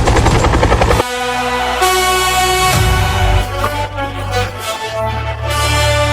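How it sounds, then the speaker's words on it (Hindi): A helicopter in an animated horror story makes a loud, steady rotor and engine drone that fills the whole moment without any break. No gunfire stands out clearly over it. "हेलीकॉप्टर जैसे ही फायर करना शुरू करते हैं"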